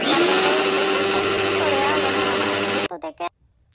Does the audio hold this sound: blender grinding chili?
yes